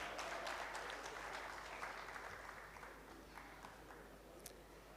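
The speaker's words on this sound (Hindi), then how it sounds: "एवरेडी के लिए बहुत तालियां बजाएं आप लोग" An audience at a tribute event at the Arts Council of Pakistan in Karachi claps in a soft, distant wash of applause that fades gently toward the end.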